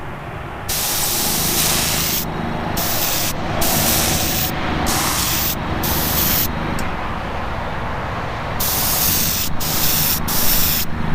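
A spray gun loaded with blood-red paint for a custom 1955 Chevy gasser sends out long loud hissing bursts broken by short pauses, close to the listener.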